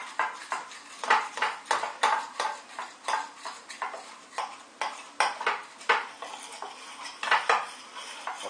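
Spoon scraping and clinking rhythmically against a pan while stirring curry sauce with milk to smooth out lumps, repeated strokes about every half second, close and steady with no talking.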